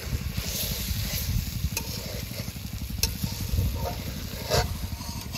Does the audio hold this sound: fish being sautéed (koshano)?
yes